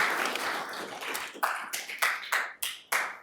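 Scattered audience applause at a town council meeting for the council and mayor, starting as a dense patter and thinning into a few sharp, separate claps near the end.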